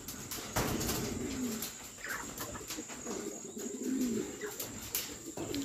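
Racing pigeons coo in low, repeated rolling calls at close range, returning after a hard 278 km derby race, with scattered chirps and faint wing flaps over a steady background hiss.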